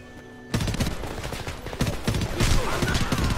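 Rapid bursts of gunfire in the first-person shooter game Homefront, starting abruptly and continuing as dense, loud overlapping shots and automatic fire with no pauses.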